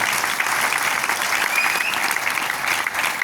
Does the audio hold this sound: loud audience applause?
yes